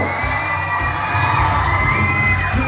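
At a Thai film launch event introducing the director and cast, a loud crowd of high-pitched voices screams and cheers continuously, with shrill whoops rising over the din.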